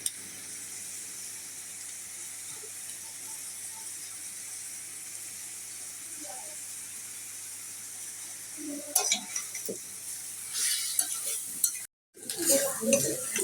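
Vegetable bhaji frying in a pan as spice masala goes in, a low steady sizzle with clinking stirring and scraping of a utensil against the pan growing busier toward the end.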